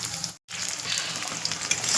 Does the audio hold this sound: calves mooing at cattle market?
no